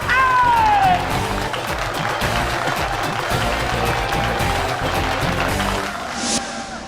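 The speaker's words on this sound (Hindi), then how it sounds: "तालियां!" Crowd noise at a wrestling bout with scattered clapping and cheering throughout, loud and continuous, with a voice calling out briefly near the start.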